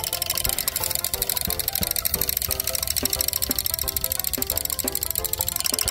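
A mini rice field tractor engine chugs loudly and steadily nearby, with a rapid knocking rhythm and rattling mechanical noise throughout.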